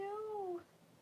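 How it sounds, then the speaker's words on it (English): A cat meows at a door, one drawn-out cry with a falling pitch, fairly faint and heard alone. "the cat's meowing at the door"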